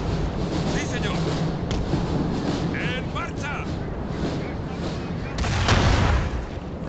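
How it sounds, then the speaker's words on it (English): Cannon artillery fire in the Napoleon: Total War game with the DarthMod mod, heard as dull booms across a noisy battlefield, with a heavier blast near the end. "my cannons are doing the job"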